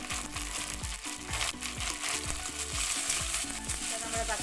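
Chopped tomato with shallots and curry leaves frying in a pan for a sardine curry, an even loud sizzle under a steady run of quick scraping stirs.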